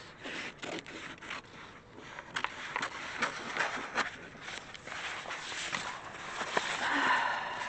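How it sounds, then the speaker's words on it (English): Scissors cutting through stencil material, soft close snips and rustling scrapes repeating at an irregular pace, faint and close. "Just going to cut it out with scissors."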